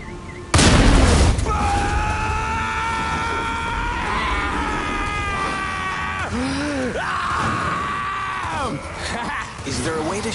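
A flipped gas tanker explodes in Far Cry 5's zombie DLC with a sudden, loud boom, followed by a long, wavering, groaning drone that keeps sounding for several seconds.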